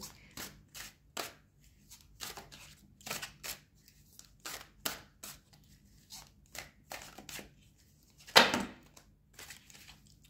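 Tarot cards being shuffled and dropping onto a surface: a quick run of sharp, papery snaps and riffles, close and fairly quiet, ending in one louder flurry as the cards fall.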